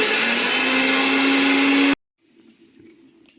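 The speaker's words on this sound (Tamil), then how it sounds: "இப்போ இதை மிக்சியில் அரைச்சிட்டு வந்துக்காட்டு" A kitchen mixer grinder blends bread with a cardamom pod in a loud, steady whir for about two seconds, then cuts off abruptly, leaving faint low rustling.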